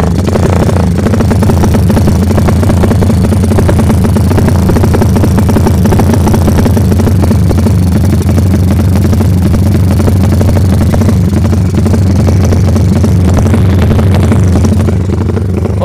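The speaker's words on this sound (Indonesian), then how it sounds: "seperti ini ya bunyinya dari sepeda motor Honda GL" A Honda GL motorcycle engine runs steadily throughout, a loud, continuous low rumble with a rough, pulsing idle and no talking.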